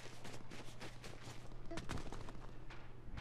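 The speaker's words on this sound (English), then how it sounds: "A lot of gunfire over here." Rapid bursts of video game gunfire crackle and pop continuously, with sharp louder shots standing out against a dense, noisy background.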